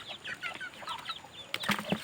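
Hybrid chickens clucking close by, a quiet run of short overlapping calls that builds into a few louder clucks near the end, with no voices present.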